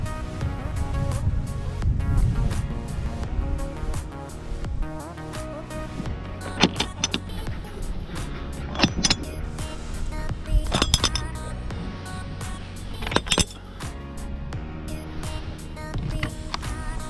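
A telescopic truck camper roof is raised by its mechanism, producing a steady motor drone with repeated metallic clinks and clunks of the extending panels, fairly close and without talk.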